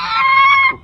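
A pet goose gives a single loud, close, drawn-out honk that lasts under a second and cuts off abruptly, heard alone.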